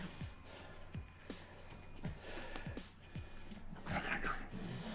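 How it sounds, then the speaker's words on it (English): Several dogs scuffle and play-fight near the floor, giving off repeated short yips, whimpers and barks in an uneven, lively run, fairly faint and mixed with rustling movement. "I have dogs running around my feet fighting, by the way."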